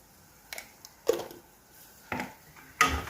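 A utensil scrapes and clinks in a pan while vegetables are stirred with spices, including chilli powder, for a Bengali posto dish; four separate stirring strokes sound close and fairly quiet, with no talk.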